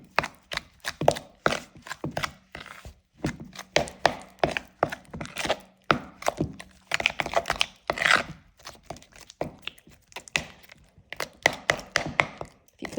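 A spoon mixes and presses cream cheese with dry ranch salad dressing mix in a bowl, making steady rhythmic thunks and scrapes close up, with no talking.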